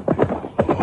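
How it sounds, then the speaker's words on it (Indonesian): Horse hooves gallop in two rhythmic bursts of low thudding beats, moderately loud and alone with no talk, suggesting horses approaching from a distance at a run. "Suara derap kuda, loh."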